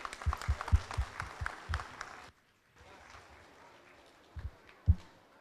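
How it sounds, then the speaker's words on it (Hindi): Scattered applause from an audience honouring a guest at a Hindi-language gathering, a few close sharp claps in the first two seconds, then a quiet gap and murmuring room noise with a couple of late claps. "कृपया तालियों से इनके सम्मान कीजिए।"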